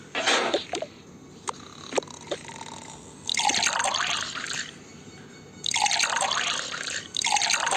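Milk is poured into a glass in three separate splashing bursts, each lasting about a second. Between the pours come a few soft clinks and handling sounds in a quiet room.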